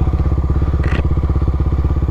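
A modified Honda XRE 299cc motorcycle engine at a drag race start, loud and close, with a fast rhythmic pulsing idle and a brief higher rasp mid-way.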